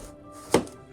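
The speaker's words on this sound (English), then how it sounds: "Slice as thin as possible." A single short knife cut as pork is sliced very thin on a board, one brief crisp stroke amid quiet kitchen room tone, with no talk.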